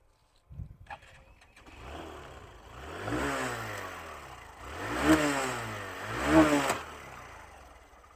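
A Hero Glamour 2020 BS6 motorcycle engine cranks and catches, then runs with rising revs and two sharp throttle blips, close and fairly loud.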